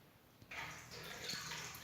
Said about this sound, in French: Il faut laisser le jus s'égoutter afin de n'avoir que des graines de kéfir.